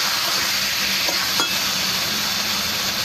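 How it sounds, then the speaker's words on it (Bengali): Raw jackfruit and fish sautéing with salt in a pan, a dense continuous sizzle with faint scraping stirs, close and steady with no voices. "এবার লবণটা দিয়ে বেশ কিছুক্ষণ জন্য কষে নেবো।"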